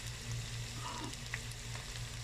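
Tomatoes drop into a pan of frying potatoes for a Pakistani aloo sabji, giving a quiet, steady sizzle with a few faint stirring clicks.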